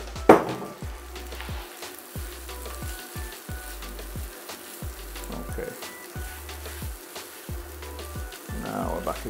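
Onion and vegan mince fry in oil in a pan, giving a constant crackling sizzle with a regular run of soft stirring knocks throughout, close by, with a louder clatter at the start and near the end.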